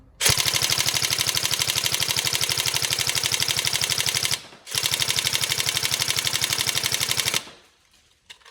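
A Tokyo Marui M4 NGRS airsoft electric gun fires long full-auto bursts of fast, even mechanical clatter, with a brief pause and a cutoff near the end.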